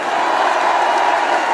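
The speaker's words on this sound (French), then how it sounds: "comme tous les soirs, un tonnerre d'applaudissements pour Malik Malki, s'il vous plaît." A large concert crowd at the Nikaia in Nice roars and cheers in a thick, loud, continuous wash of sound.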